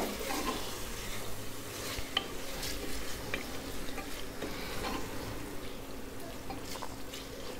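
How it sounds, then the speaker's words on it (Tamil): Mutton liver being stirred into onion and tomato masala in a pan makes a continuous close sizzle, mixed with frequent wet scraping and clinks of the spoon against the pan. "இந்த வெங்காயம் தக்காளியோட நல்லா அந்த ஈரலை மிக்ஸ் பண்ணி விடுங்க"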